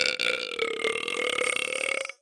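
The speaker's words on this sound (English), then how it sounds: "You guys get to see the burps on video now." A long, loud, continuous burp with a tonal, croaking quality, sustained for about two seconds before cutting off abruptly, close and alone with no talk.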